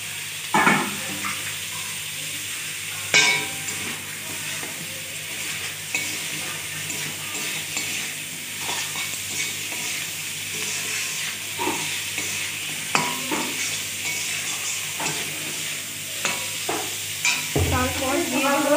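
Salted mutton fries and is stirred in a pan for ghugni, a steady close sizzle broken by repeated scraping and knocking of the spoon against the pan.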